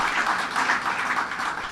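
Audience at a legislation signing for the LaGuardia AirTrain project giving a steady round of applause, a dense even wash of clapping from a sizable crowd, moderately loud with no talk over it.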